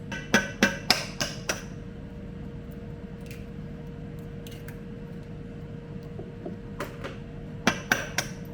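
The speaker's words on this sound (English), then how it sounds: "So just beat the sugar and butter." Sugar and butter being beaten together in a bowl, sharp clacking strikes of the utensil against the bowl in quick bursts at the start and end, with a quieter scraping stretch in between over a steady low hum.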